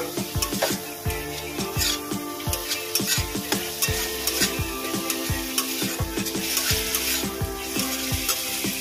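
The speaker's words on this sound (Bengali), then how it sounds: "যতক্ষণ না মশলাটা দিয়ে তেল ছাড়ছে ততক্ষণ পর্যন্ত এটা কষাতে হবে" Spice masala with slit green chillies sizzling in oil while a spatula stirs it in quick, repeated scrapes against the pan, a loud, close, continuous frying hiss under the strokes.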